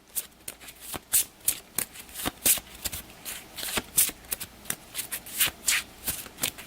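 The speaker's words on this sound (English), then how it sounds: "give that a couple more shuffles" A deck of event cards for a B-17 Flying Fortress bomber board game is shuffled by hand, giving a run of crisp riffling bursts in steady rhythm, close and fairly loud, with no talking.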